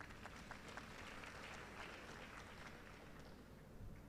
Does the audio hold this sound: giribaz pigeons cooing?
no